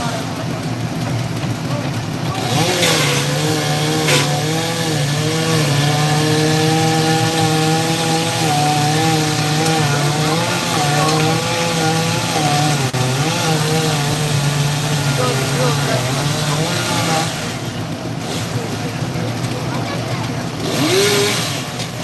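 A chainsaw fitted with a carbide-tipped chain runs loud and steady at close range for most of the stretch, its pitch wavering as it bites, with brief lulls near the start and end and people talking over it.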